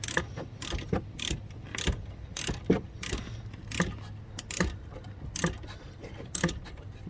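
Wrench ratcheting while tightening the upper brake caliper bolt on a 2006–2010 Mk5 Volkswagen Jetta rear brake, heard as a steady series of close, rhythmic metallic clicks and clacks with no talk.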